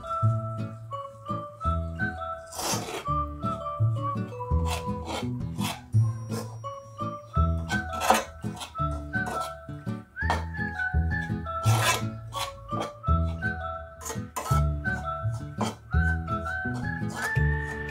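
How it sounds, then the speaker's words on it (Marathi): Semolina is stirred and roasted in a pan for sweet rava sheera, with steady scraping and rubbing strokes against the metal over a light background melody, close and rhythmic. "तर इथे आम्ही मस्तपैकी रवा पूर्णपणे भाजून घेत आहोत."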